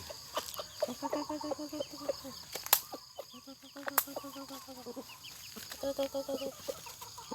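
Chickens cluck in repeated bursts close by, with occasional sharp louder squawks and some wing flapping in between; no voices.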